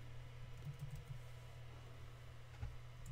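Quiet clicking keystrokes on a computer keyboard sitting right in front of a microphone, a few soft irregular taps over a steady low hum, with no voices.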